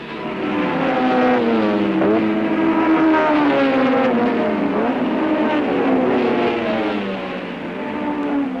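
A pack of 1968 British Saloon Car Championship racing cars roar away from the start, several engines revving hard and climbing in pitch together, loud and close, with overlapping rising and falling whines as they pull away.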